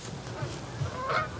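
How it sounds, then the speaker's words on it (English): Wild geese fly in over a Michigan goose hunt on opening morning, giving a few honks at middle distance over a soft, breezy outdoor background, with no talk. "Geese are coming in from all directions."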